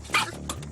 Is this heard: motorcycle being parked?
no